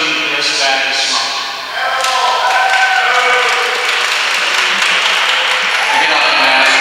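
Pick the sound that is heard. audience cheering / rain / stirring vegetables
audience cheering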